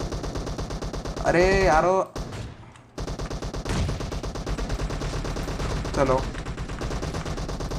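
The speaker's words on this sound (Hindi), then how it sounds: "चलो AWM से एक किराक शॉट देंगे भाई" AWM sniper rifle shots in a PUBG team deathmatch, a string of sharp in-game gunfire cracks running through the clip beneath a voice speaking.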